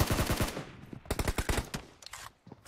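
Gunfire from a mobile battle royale game in a one-on-one team deathmatch, with rapid automatic bursts of sharp shots in quick succession, loud and close, broken by a short pause before another volley.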